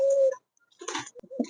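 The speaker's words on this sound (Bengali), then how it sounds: "দেখতে পাচ্ছেন এখানে এক জোড়া কিং কবুতর" A pair of king pigeons, male and female, give a short, close cooing call followed by a few softer throaty coos, with a brief pause of silence between.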